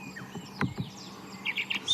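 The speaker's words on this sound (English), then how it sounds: "There's a lark calling." A lark calls with quick, varied chirps and trills, fairly close, in short bursts over a quiet outdoor background.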